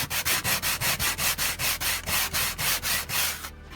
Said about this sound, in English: So we'll sand that down.